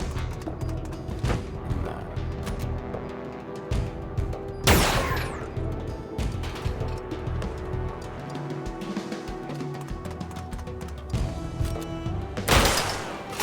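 Gunshots crack out during a turn-based shootout in SteamWorld Heist 2, two loud sharp blasts standing out above a busy bed of smaller clanks, thuds and game effects, with no voices.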